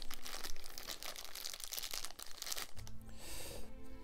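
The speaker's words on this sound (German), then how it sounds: "So, Tüte auf." A plastic bag around a Masters of the Universe Origins Stinkor action figure is torn and crinkled open by hand, giving a close, continuous rustling and ripping that settles into softer crackle near the end, with no talking.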